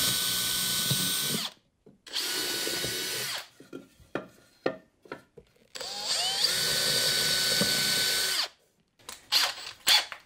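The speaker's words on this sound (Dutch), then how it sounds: "Dan weet je dat je daar binnen dus je gaatjes moet boren" A power drill bores holes into wood for a great tit nest box. Several loud whirring bursts are separated by pauses filled with faint handling clicks and knocks.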